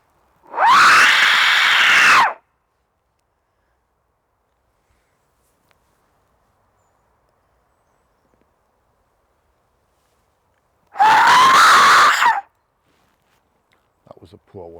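A person screams twice during a night ghost hunt in a forest, each scream sustained for about a second and a half and loud and close, with a long silent gap between them and faint rustling afterward.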